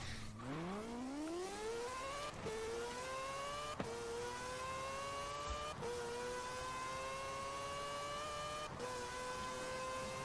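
A fast car in Forza Horizon 4 accelerates hard, its engine note climbing steadily through each gear with brief dips at the shifts, loud and continuous with no talk over it.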